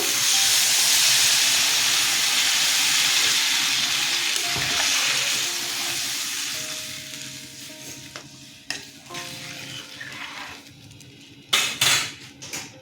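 Loud sizzling and hissing from a hot pan after potatoes, eggplant and water go in for a Bengali fish curry with tomato, easing over time into quieter bubbling, with a few clinks of utensils near the end.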